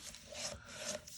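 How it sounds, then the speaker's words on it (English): A bone folder rubs firmly along score lines on cardstock for a small paper treat box, giving a steady dry rasping scrape in two close passes, near and quiet with no talk. "The next thing you want to do, as always, is burnish on all the score lines."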